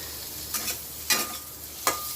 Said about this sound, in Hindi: इधर पनीर फ्राई हो रहा है, देख सकते हैं।